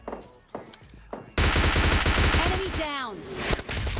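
Gunfire from the PUBG Lite mobile battle game: a few sharp isolated shots, then a loud sustained rapid burst of automatic fire with a voice talking over part of it.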